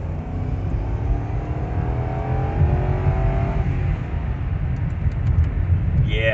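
A 2006 Lexus LS430 sedan accelerating: a steady, smooth engine and road drone heard from inside the cabin, with rising harmonic tones as it speeds up, loud and continuous with no talk.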